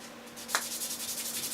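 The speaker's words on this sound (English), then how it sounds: "Let's keep sanding it down." A steady, rhythmic scraping rub of sanding a clarinet reed on the coarse side of the abrasive, quick back-and-forth strokes close up, with one slightly louder scratch near the start.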